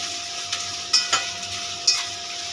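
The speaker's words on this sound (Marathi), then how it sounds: "आता आपण इथे कांदा टाकून घेतलाय" Chopped onion frying in oil and stirred in a pan for a raw jackfruit curry, a steady sizzle with a few sharp clinks and scrapes of the spoon against the pan.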